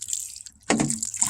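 A splash and gurgle of water pouring onto a potted vegetable planting, starting abruptly midway after a few faint drips, close by.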